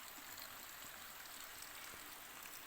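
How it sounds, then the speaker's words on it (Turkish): A stream near a waterfall flows steadily, a soft continuous rushing of water with a faint trickle, heard alone without voices. "sessizliği dinleyin. Pardon derenin sesini."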